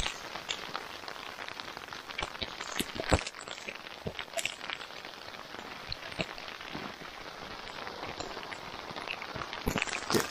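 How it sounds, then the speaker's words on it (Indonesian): Steady rain pattering on a mountain trail on Mount Lawu, a dense even hiss with scattered sharper drops hitting nearby surfaces, continuous and fairly close, no voices. "Akhirnya hujan juga."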